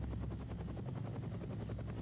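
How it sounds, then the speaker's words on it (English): A helicopter flies overhead in the video game DayZ, its rotor chopping in a fast, steady rhythm that stays fairly faint and constant throughout, with no voices. "I hear a helicopter."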